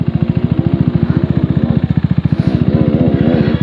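A KTM RC 390 motorcycle rides along with its engine close and loud, a fast, even thumping pulse that holds steady and rises slightly toward the end.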